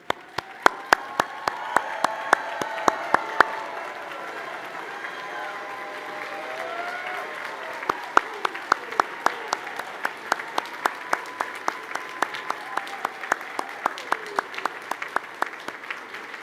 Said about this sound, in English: Please rise and join me in applauding for this graduating class for their exceptional